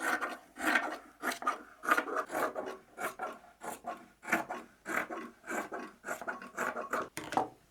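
The edge of a quilt table runner made from scrap fabric is trimmed with a cutter, giving a series of about a dozen rhythmic rasping strokes. They are close, fairly soft and evenly paced, with nothing else over them.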